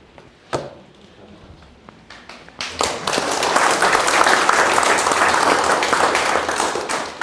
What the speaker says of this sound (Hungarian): A tapsot köszönöm